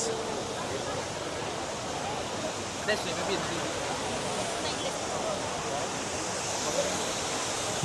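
Water splashes and pours steadily from a famous fountain in Rome, a continuous broadband rush with faint background voices of a crowd.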